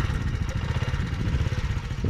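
A 70cc motorcycle engine runs on a frozen lake, a steady close puttering throb with a rapid, uneven beat that carries on throughout and briefly swells near the end.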